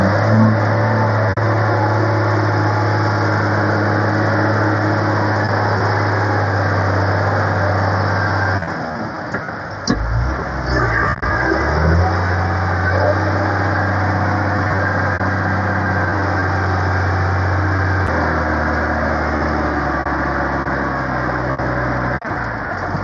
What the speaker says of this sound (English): You just deflate your tyres and you just drive straight out.